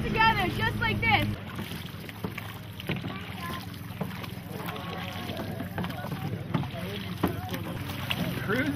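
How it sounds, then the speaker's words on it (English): A canoe paddled across open water, with a brief voice at the start, then a steady wash of water and wind noise broken by soft paddle strokes. "our key to success today is going to be paddling all together, just like this."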